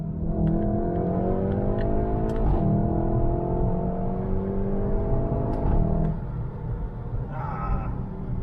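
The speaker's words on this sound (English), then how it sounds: "So if you want the loudest pops, rev it out all the way." A VW Golf 7.5 R engine revs up loudly toward its redline through an Akrapovic titanium sport exhaust, rising and falling in pitch with a few crackles, close and continuous.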